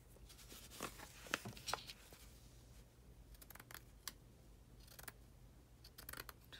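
Scissors cutting paper for a journal cover, close and quiet, with several crisp snips in irregular bursts separated by soft handling rustles.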